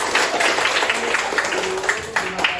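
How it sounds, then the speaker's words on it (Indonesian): A group claps together for everyone at the close of a classroom lesson at an Islamic senior high school, a steady wash of applause lasting throughout. "tepuk tangan untuk kita semua"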